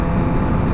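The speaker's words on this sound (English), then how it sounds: "we're gonna let you listen to what that downshift sounds like" A motorcycle engine roars loud and close through an accelerated downshift, a dense, steady broadband rumble for under a second with no clear rhythm.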